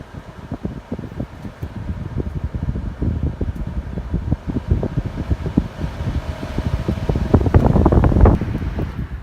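A Toyota Prius climate control fan blows steadily on high, making a loud, continuous broadband rush with small ticks and rustles and a slight rise near the end.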